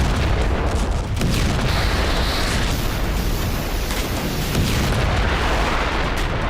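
Heavy Russian missile strikes pound a war-torn city, producing a dense, continuous wall of loud booming explosions and rumbling blasts that overlap without a break.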